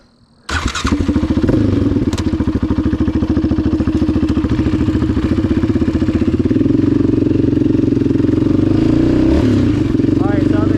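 A 2006 Raptor 700 ATV engine roars to life after a quiet start. It revs hard and stays loud and close during a wheelie, with a steady throbbing pulse that rises slightly near the end.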